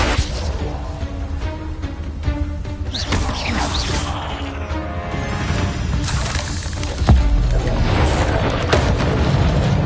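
Spell explosions from Bombarda and Confringo in the Hogwarts Legacy video game, a steady run of loud booms and crashing bursts with one heavier impact near the end, dense and continuous throughout.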